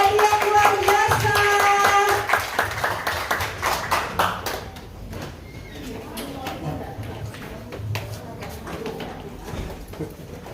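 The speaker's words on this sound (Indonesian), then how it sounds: "Beri tepuk tangan, beri tepuk aplaus untuk adik-adik yang luar biasa." Church audience clapping for children about to perform worship songs, a dense burst of applause over music at first that thins out into scattered claps and background voices.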